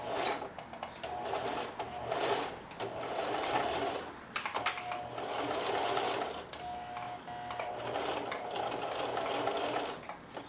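Sewing machine stitching bar tacks on apron straps, running in close, steady bursts of rapid mechanical whirring with brief pauses between forward and reverse passes, and no one talking.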